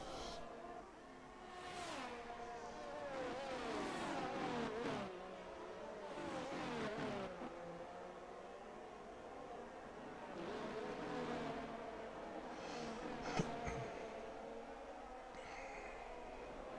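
Race cars roar through a sim racing league event in a video game, engines revving and rising in pitch as several cars pass close together, a continuous loud drone with shifting whines and occasional faint talk underneath.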